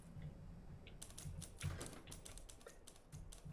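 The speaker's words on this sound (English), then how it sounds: "I hear typing" Typing in the Dishonored 2 video game, a quiet run of soft keystrokes clicking over a low background hum, fairly faint and steady for a few seconds.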